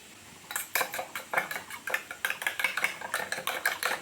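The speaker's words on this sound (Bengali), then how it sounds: "ডিমের সাথে মশলাটাকে ভালো করে মিশিয়ে নিতে হবে।" Quick rhythmic clinks of a utensil against a bowl as eggs are whisked with salt and noodle spice mix, a steady run of sharp close taps speeding up toward the end.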